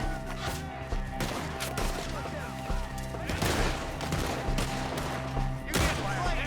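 Rapid gunfire crackles through a Red Dead Redemption 2 shootout against enemies up in the trees, bursts of shots repeating over a dense musical backdrop, with shouted voices cutting in at times.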